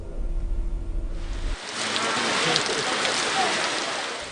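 Heavy rain pours steadily across outdoor ceremonial grounds, a dense hiss that swells in after a brief low rumble at the start and holds loud and even to the end.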